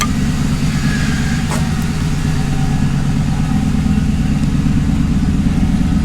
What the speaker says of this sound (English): So we're gonna take the car out and road test it.